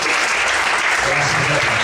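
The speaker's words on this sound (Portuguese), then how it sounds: "Você pode aplaudir o Senhor bem forte para ele." Church congregation applauding during a service, loud dense clapping from many people, with a voice rising beneath it partway through.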